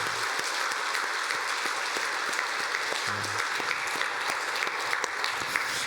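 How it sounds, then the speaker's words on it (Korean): A church congregation at a Sunday worship service breaks into steady, sustained applause, a dense even wash of clapping from a large crowd filling the hall throughout. "박수 한번 하도록 하겠습니다."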